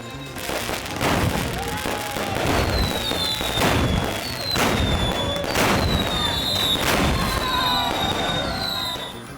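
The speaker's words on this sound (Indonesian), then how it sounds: "meriam karbit karena memiliki bentuk dan menghasilkan suara yang sangat keras, sehingga memekakan telinga seperti meriam" Carbide bamboo cannons fire repeated loud booming blasts in quick succession, with crackling bangs and whistling streaks, continuous and dense, echoing outdoors.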